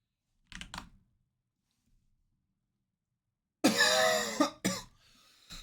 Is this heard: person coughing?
yes